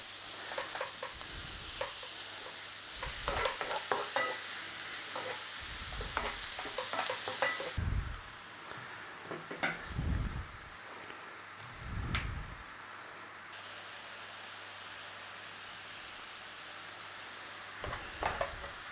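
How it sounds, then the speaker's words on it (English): Mushrooms with black pepper are stir-fried in a pan, with a soft low sizzle broken by repeated spatula scrapes and pushes at an irregular pace, fairly quiet and close. "a little bit of a stir fry. Start to loosen up those mushrooms, cook them down a little bit"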